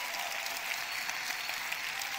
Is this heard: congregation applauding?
yes